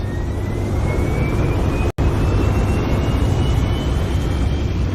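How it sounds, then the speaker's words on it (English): A loud, steady airplane roar plays as the opening sound of a video, a continuous broadband engine rumble with a faint rising whine and a brief cut near the two-second mark. "The airplane is loud."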